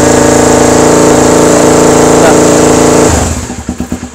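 Motorcycle engine held at high revs with a loud, steady drone, then dropping back to a pulsing idle with distinct putters near the end.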